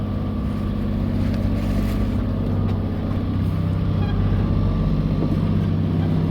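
A sailboat motoring under engine power on a windless passage between Swansea and Tenby, its steady low engine drone and hull rumble running continuously, close and loud, with wind buffeting the microphone.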